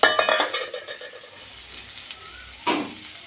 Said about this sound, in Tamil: லோவாகவே வச்சு இப்படி நல்லா கிளறி விட்டுக்குங்க